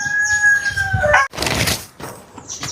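A rooster crows loudly and close by near an outdoor cooking area, its drawn-out call filling the first second, followed by softer fowl clucks and rustling with no talk.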